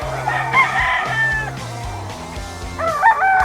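Sweater gamefowl rooster crowing loudly and close by, with a few repeated crows over steady background noise.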